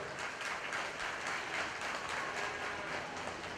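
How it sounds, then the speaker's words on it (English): Continuous audience applause at a county fair 4-H and FFA market lamb show, a broad even wash of many hands clapping, steady and moderately distant with no talk over it. "give everyone a round of applause that's been involved in this particular endeavor"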